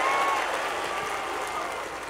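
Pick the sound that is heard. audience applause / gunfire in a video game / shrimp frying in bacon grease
audience applause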